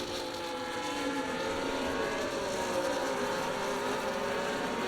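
Formula 1 race cars in a racing video game whine steadily with layered engine tones rising and shifting in pitch, a continuous high-revving drone with no talk.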